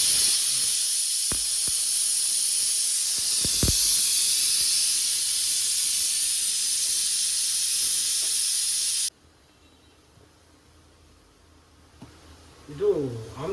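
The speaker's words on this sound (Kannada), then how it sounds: "ಈಗ 3 ವಿಷಲ್ ಆಗಿದೆ, ಆಫ್ ಮಾಡಿದ್ದೀನಿ ಸ್ಟವ್ನ" A pressure cooker whistles, releasing a loud, sustained, close steam hiss while dal sambar cooks. The hiss cuts off abruptly partway through, leaving quiet room noise and a brief voice at the end.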